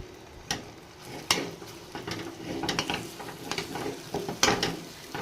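Semolina and hot water are stirred in a pan, producing close scraping and tapping strokes in an irregular rhythm over a soft sizzle, with no one speaking.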